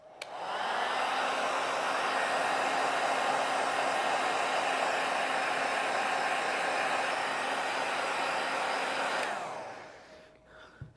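A hair dryer blowing to dry leather repair filler runs steadily and loudly at close range for about nine seconds, then switches off and winds down.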